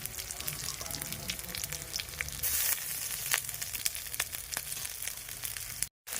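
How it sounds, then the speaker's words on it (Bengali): A paste of dried chilli, coriander, cumin and ginger frying in a pan, a steady close sizzle with scattered crackles and a brief brighter hiss midway, ending in a sudden short silence, no talking. "একটু ভেজে নিয়েছি, এবার দিয়ে দিচ্ছি শুকনো লঙ্কা, ধনে আর জিরে বাটাটা"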